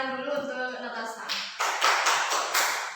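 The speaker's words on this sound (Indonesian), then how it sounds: "Jadi kita tepuk tangan dulu untuk Natasha" A classroom of students claps for a classmate, a burst of applause that starts after a spoken voice and carries on for about two seconds as a fairly close, steady clatter of hands.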